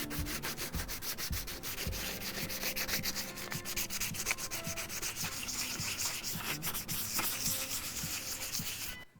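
Steady, continuous rasping of coarse 60-grit sandpaper scrubbed back and forth across a helmet's hard surface, close and loud with a brisk rhythm, no talking.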